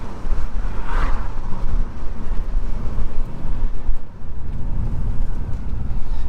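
GBody car engine running on a carburetor at a lean idle, a steady low rumble that stays close and loud with wind buffeting the microphone and no talk.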